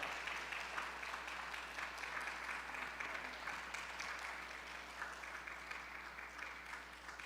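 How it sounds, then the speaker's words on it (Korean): An audience in a large church sanctuary at a book concert applauds, steady dense clapping sustained at even level throughout, distant and reverberant with no voices. "큰 박수 보내주시면 감사하겠습니다"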